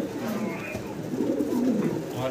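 Fancy Lahori pigeons coo in soft, low, rolling calls close by, with faint human voices in the background.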